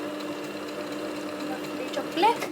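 A domestic sewing machine stitching back and forth to secure a French seam, a steady close motor whir under a brief spoken remark, with a short rise at the end.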